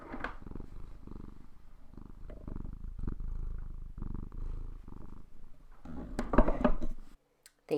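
A house cat purrs steadily and close to the microphone, a low rhythmic rumble in repeated breaths, followed by a few brief handling clicks and rustles before it cuts off.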